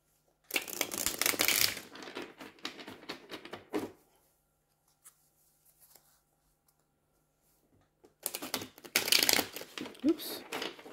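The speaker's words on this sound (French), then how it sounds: "je vais bien mélanger les cartes" Tarot cards being shuffled by hand, two bursts of rapid riffling and flicking close up, separated by a few seconds of near silence with only faint handling sounds.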